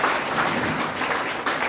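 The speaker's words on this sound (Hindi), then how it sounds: "जैसी ताली आपने बजाया ऐसी ताली से दमदार ताली होगी" A hall audience applauds, with dense, steady clapping from many hands, loud and close, filling the short moment without voices.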